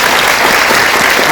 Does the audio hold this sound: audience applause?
yes